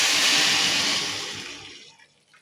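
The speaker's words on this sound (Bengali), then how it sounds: "এখানে এখন আমি গরম পানি অ্যাড করতেছি" Hot water pours into frying rice for pilaf, a loud rushing hiss and splash that fades over about two seconds as the pot settles, with no voices.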